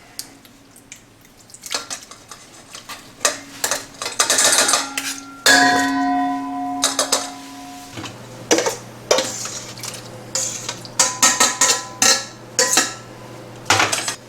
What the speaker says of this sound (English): I'm just putting it through a strainer here